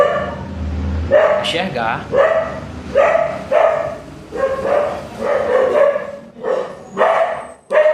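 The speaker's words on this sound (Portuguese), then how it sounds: "meu cachorro está latindo muito aqui" A dog barks repeatedly nearby, a series of sharp barks mixed with someone talking over them.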